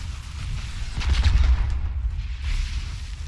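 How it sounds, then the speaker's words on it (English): Grenades burst in a StarCraft II Terran versus Zerg match, a low rumbling run of muffled blasts swelling near the middle and again toward the end, with no talk over them. "very nicely done with those grenades"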